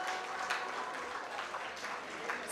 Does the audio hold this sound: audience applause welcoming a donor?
yes